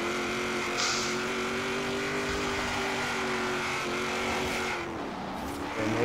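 A 1956 Ford F100 truck drives in the game Forza Horizon 3, its engine droning steadily at a held pitch, then dropping as it slows near the end, with some tire noise.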